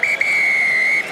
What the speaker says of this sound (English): blows the full-time whistle